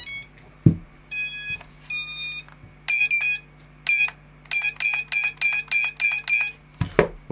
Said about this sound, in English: there's a specific buzzer in there, so we're going to set that up now